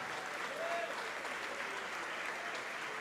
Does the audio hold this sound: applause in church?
yes